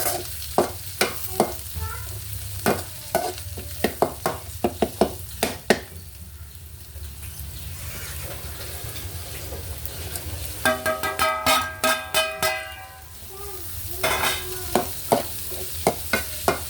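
Curry leaves frying in hot oil in a pan while being stirred for kothu parotta with beef: a steady sizzle under repeated sharp scrapes and clanks of a spatula, close and fairly loud, with no one talking.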